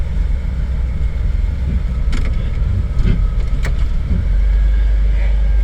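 A car at an auction lot is shifted into drive and rolls forward, then put in reverse and backed up; a steady engine rumble with low road noise runs throughout, close and continuous.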